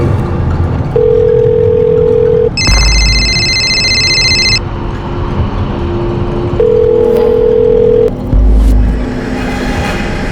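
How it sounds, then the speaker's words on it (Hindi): A phone rings out unanswered in a drama scene, with long electronic ring tones repeating at intervals and a brighter tone burst in between, over a steady background hum and no speech. "मैं तेरे अब्बू को कब से फोन लगा रही हूँ, फोन नहीं उठा रहे।"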